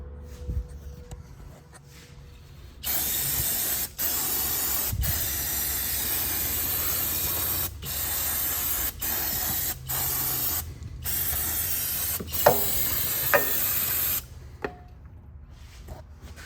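Aerosol brake cleaner sprayed to wash spilled brake fluid off during a brake line repair: a loud, steady hiss that runs about eleven seconds, broken by several brief pauses between bursts, close to the microphone with no talk.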